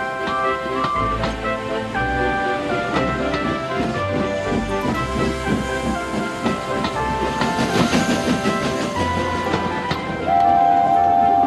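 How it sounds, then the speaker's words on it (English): Steam engines in the Trainz video game chuff into a station, a busy mix of rhythmic puffing and clanking rail sounds with tonal whistle-like notes layered over steady background music. "They chuffed gently into the station."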